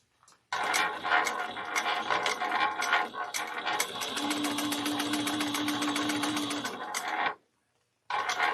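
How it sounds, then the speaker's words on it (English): A sewing machine top stitches around a bag an eighth of an inch from the edge, running in one long steady rattling burst that stops abruptly, then starts again briefly. "So I'm going to top stitch 1/8 of an inch and go all the way around"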